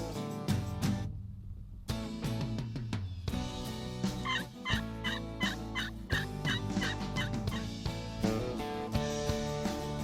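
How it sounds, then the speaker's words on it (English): A wild turkey hen calls in an open spring field in Michigan, heard as repeated yelping notes over a dense, steady background of music-like tones and other layered sound. "Found a turkey. Oh yeah, it's a hen."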